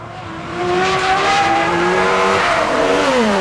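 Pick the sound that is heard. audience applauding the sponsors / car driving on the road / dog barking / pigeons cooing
car driving on the road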